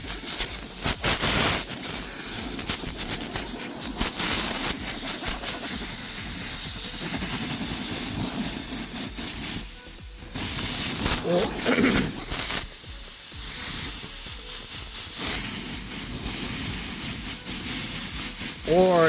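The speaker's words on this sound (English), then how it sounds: "try to use compressed air and get into these holes." Compressed air hissing into the holes of perforated car leather, a loud continuous close blast with brief pauses, while a person talks over it.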